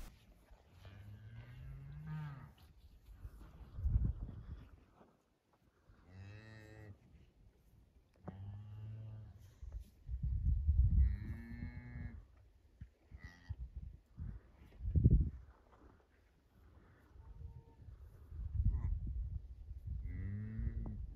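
Cows in a calving setting, just after a calf's birth, give repeated loud, drawn-out moos close by, spaced with short pauses and occasional quieter rustling between calls.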